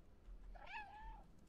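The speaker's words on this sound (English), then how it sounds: "Meow?" A cat meows in the video game Stray, one clear drawn-out call with a rising then falling pitch, close and alone over a quiet background.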